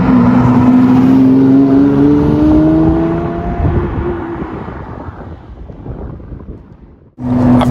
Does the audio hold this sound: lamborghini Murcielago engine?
yes